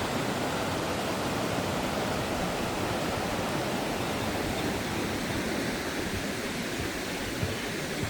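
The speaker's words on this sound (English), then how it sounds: "View out over the river." Steady, continuous rush of a river flowing through woodland at Watersmeet in North Devon, a broad unbroken water noise that stays even throughout with no voices.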